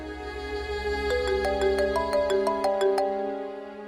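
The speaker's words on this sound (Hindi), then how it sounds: "चेयरमैन साहब के पीए का फोन।" A phone ringtone plays an incoming call from a chairman's assistant: a bright electronic melody of rising, stepping tones sounding clearly for about two seconds over a steady low hum, with no talking.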